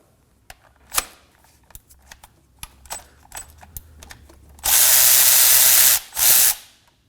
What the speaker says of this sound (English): we're gonna go ahead and remove this 12mm bolt that holds this bracket for the lines